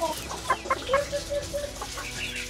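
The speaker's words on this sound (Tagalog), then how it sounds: "Yung manok na pang sabong." A fighting rooster, a gamecock, clucks in short, close calls amid other backyard chickens, with a few brief strained crow-like notes over a steady low background.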